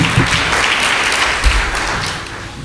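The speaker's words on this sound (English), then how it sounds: "How about a round of applause for our host, Melissa?" A conference audience applauding a host, a dense steady clatter of many hands clapping at once that fades slightly toward the end.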